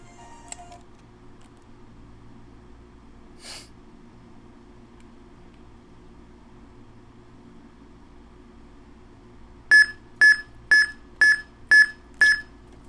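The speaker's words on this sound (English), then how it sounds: "I'm going to lower my volume because for the beeps" A Nintendo DS running Pokemon Diamond/Pearl gives six evenly spaced, bright electronic beeps near the end during a soft reset, after a quiet stretch with one brief click.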